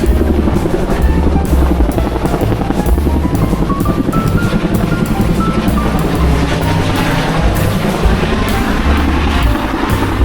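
A loud fire service helicopter roars overhead with steady, thudding rotor beats and engine drone that fills the whole stretch without letting up.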